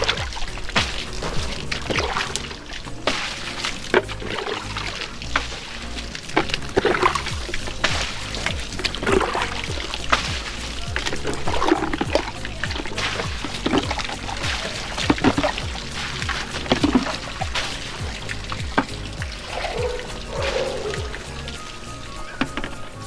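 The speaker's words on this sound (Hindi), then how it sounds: "तो देखो कितना मिट्टी का पानी निकल रहा है।" Muddy water pours and splashes steadily out of an air conditioner during servicing, a continuous watery rush with scattered drips, close and fairly loud, running throughout with no speech.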